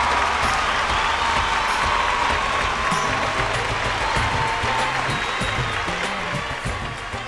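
A crowd at a Bhojpuri singing-competition stage show claps loudly to welcome a singer, a dense, sustained roll of applause with cheering that carries evenly to the end, faint tones and voices beneath it.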